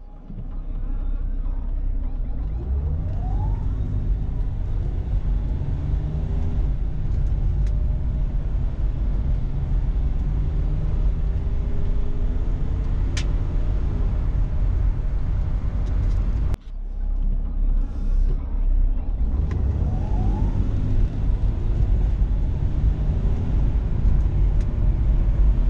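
Engine of a Mercedes R107 280SL classic car with a fixed throttle linkage, revving up through rising pitch twice, loud and close and steady, with a brief cut midway.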